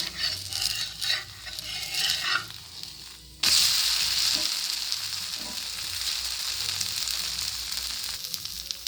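A Nellore kara dosa cooks on a hot griddle, first with scraping and handling sounds, then a sudden loud, steady sizzle once it is flipped, close up with no talking.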